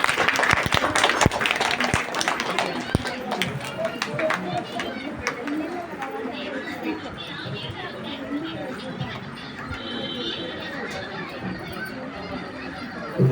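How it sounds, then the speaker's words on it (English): Audience applause at a school UKG graduation day ceremony, greeting the chairman: a steady wash of clapping mixed with crowd chatter, fairly loud at first and settling into a busy, sustained murmur of hands and voices. "Give a big round of applause to our Chairman Sir."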